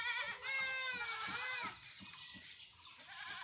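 Several goats on a farm bleat in wavering, drawn-out calls, one after another, fairly close, over faint low rumbling background.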